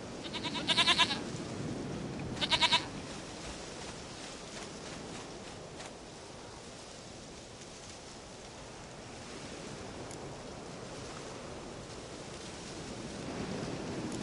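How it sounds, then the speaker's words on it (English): Two loud bleats from a goat in The Witcher 3 ring out close in the first few seconds, followed by a long stretch of soft ambient wind and surf-like rushing. "Goat of mine, dearest,"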